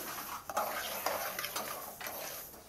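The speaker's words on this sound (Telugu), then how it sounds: "మసాలాలు దోరగా వేగే వరకు కలుపుతూనే ఉండాలండి సిమ్లో పెట్టుకొని" Spices fry on low heat for chicken pickle, a quiet soft sizzle broken by the light scraping and clinks of a spoon stirring around the pan, close and faint, with no talking.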